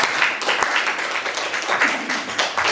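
Audience applause from a small, cozy crowd at a voice-only live performance, steady dense clapping sustained throughout at moderate loudness.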